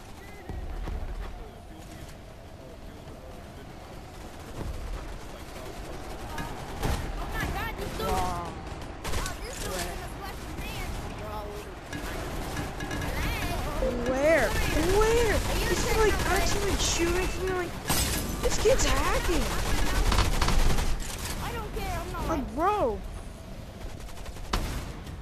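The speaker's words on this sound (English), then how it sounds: "I have like two people shooting at me right from the bottom of right there." Bursts of video game gunfire from other players shooting, rapid cracks and volleys under excited live commentary, mixed with in-game hoofbeats and other game sounds.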